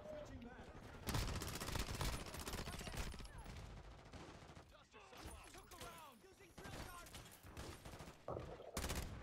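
Bursts of gunfire and shotgun blasts from a first-person shooter video game crackle in rapid clusters, mixed with excited voices talking over the action throughout.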